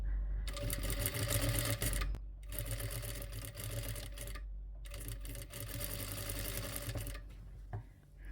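A sewing machine stitches golden dotted lace onto a fabric shawl in rapid continuous runs, pausing briefly twice before resuming, with a short knock near the end.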